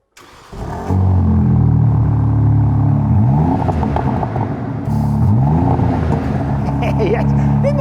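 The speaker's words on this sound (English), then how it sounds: "the car is ice cold, so we'll get a cold start as well" A new BMW M3 engine cold-starts, cranking and firing into a loud, rumbling idle, with two brief revs rising and falling; a voice talks faintly over it.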